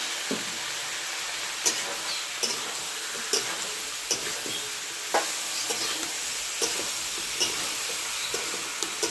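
Vegetables and spices frying for a drumstick curry sizzle steadily in a pan, with a constant hiss and periodic sharp clinks of a spoon stirring, no voices.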